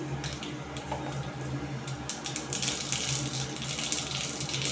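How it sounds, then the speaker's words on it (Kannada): Mustard seeds sputtering in hot oil while cabbage palya is cooked: dense, continuous crackling and popping, close and fairly loud, growing busier toward the end. "ಸಾಸಿವೆ ಹಾಕ್ತಾಯಿದ್ದೀನಿ"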